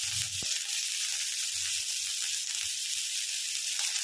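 Eight onions fry in a little oil, a steady close hissing sizzle that carries on evenly, with a faint stir or tap near the start and no talking.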